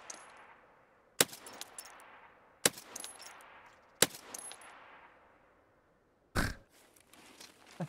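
Four loud, sharp single shots from a gun in Escape from Tarkov, spaced more than a second apart, each with a long fading echo trailing into the distance.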